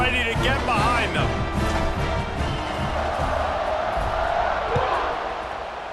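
Stadium crowd in the College Football 26 video game cheers and roars steadily through a fourth-quarter kickoff, a loud, dense wash of voices that tapers slightly at the end.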